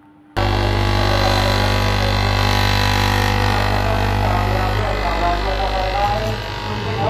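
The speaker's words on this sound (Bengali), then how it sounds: "তো প্রথমে গলার পাটটা কাটা হচ্ছে।" An electric fabric cutting machine slices through the neck section of stacked nighty cloth in a Kolkata factory, giving a loud, steady motor drone and hum that runs continuously throughout.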